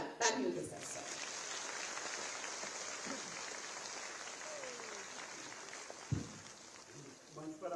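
Applause from a crowd at a government rural development event in Uttar Pradesh welcomes an official to the stage, a steady broadband patter of clapping under a faint voice, with a few louder knocks near the start and end.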